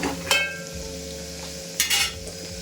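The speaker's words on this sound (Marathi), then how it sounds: "व्यवस्थित सगळं मिक्स करून घेऊया" A spoon stirs garam masala and salt into a mixture in a pan, with a steady sizzle underneath and two brief scraping clatters of metal against the pan, close and fairly loud.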